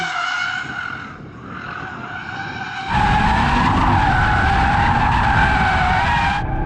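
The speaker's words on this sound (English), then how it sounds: "I'm trying to drift it carefully" An Audi RS3, an all-wheel-drive car, screeches its tires while drifting, the loud, sustained squeal rising over engine roar and holding steady for several seconds.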